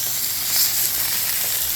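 Food for a surf and turf dinner sizzles in a hot pan just after being flipped, a short, close, steady hiss with no break.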